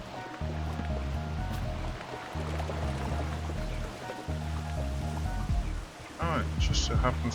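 Steady hiss of rain falling in the Minecraft video game, spread evenly across the whole stretch beneath looping game music and occasional game effects, with no voices.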